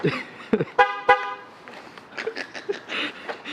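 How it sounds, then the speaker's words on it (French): A car horn gives two short, sharp honks close by, followed by muffled voices and road noise. "Tu veux que je fasse klaxonner la voiture?"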